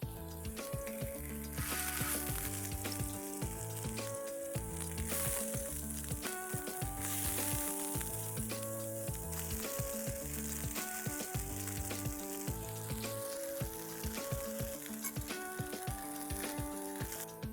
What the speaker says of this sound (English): cook this on all sides by a method called roll frying